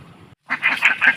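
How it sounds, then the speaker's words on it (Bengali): Ducks quacking close by in a rural farmyard, giving a quick burst of three or four loud nasal quacks after a brief hush. "এইদিকে দেখো হাঁসগুলো প্যাক প্যাক প্যাক প্যাক শুরু করে দিয়েছে"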